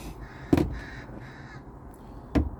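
Two loud crow caws ring out about two seconds apart, with fainter bird calls and a low hum between them.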